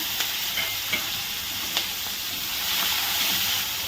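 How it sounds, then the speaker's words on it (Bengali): Prawns fry in a pan with a dense, steady sizzle and hiss, marked by a few light taps of a utensil stirring. No voices. "এখন হচ্ছে একটু চিংড়ি মাছ ভেজে রাখবো কালকের জন্য"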